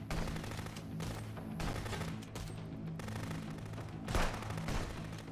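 Rapid bursts of video game gunfire in Contraband Police crackle in quick succession, automatic fire mixed with single shots, loud and continuous with no talking.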